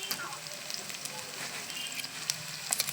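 Ground spice paste sizzling and frying in hot oil with browned onions in a pan, a steady close crackle with scattered sharper pops, no voices.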